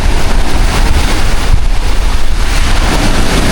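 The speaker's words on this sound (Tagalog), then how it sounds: "Galit na naman po ang dagat." Loud, rough roar of the sea with crashing surf and strong wind buffeting the microphone, no voices.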